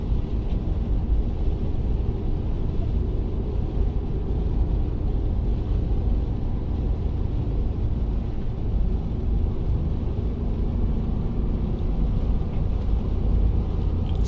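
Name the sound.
manual Toyota 4Runner driving on snowy mountain pass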